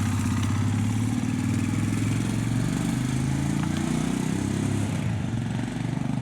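A Royal Enfield Himalayan motorcycle rides past a couple of times, its steady low engine drone loud and continuous throughout, with some clattery mechanical texture and no talking.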